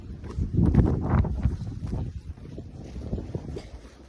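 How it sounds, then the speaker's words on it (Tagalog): Wind from a snowstorm in Ontario, Canada, roars against the microphone in uneven gusts, peaking early and then settling into a lower steady rush. "Mahangin."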